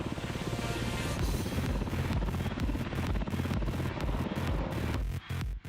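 A pilotless Black Hawk helicopter's rotor thumps rapidly and steadily over a loud engine drone, close and continuous, with brief choppy cutouts near the end.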